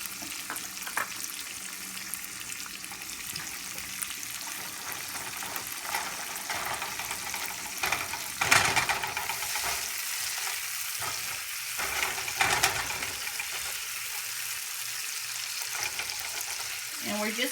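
Onions sauté in a pan for German noodles with vegetables, giving a steady soft sizzle with occasional louder stirring scrapes, close and alone without talk.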